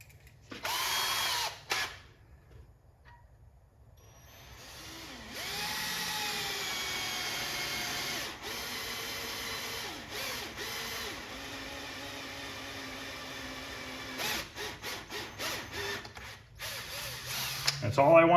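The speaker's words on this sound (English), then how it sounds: "So we need to drill that double hole again." A power drill bores through the metal of a Sinistar arcade control panel in long, loud whirring runs. Short bursts and pauses break them up, with speech at times between the runs.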